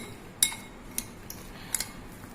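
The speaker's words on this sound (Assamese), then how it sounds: "ভালদৰে এনেকৈ মিহলাই ল'ব" A spoon stirring a mixture of soya chunks and egg in a bowl, giving a few light metallic clinks and taps spaced irregularly over a quiet background, faint and close.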